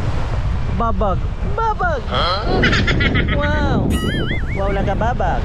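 Strong typhoon wind and rough waves at sea by a fishing boat make a constant blustery roar beneath excited talking.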